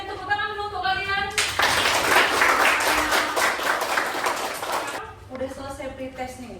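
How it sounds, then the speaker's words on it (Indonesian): Students in a classroom burst into a steady round of applause lasting several seconds, dense clapping that rises sharply and then cuts off, with a teacher's voice heard before and after. "Berikan tepuk tangan dulu untuk kalian."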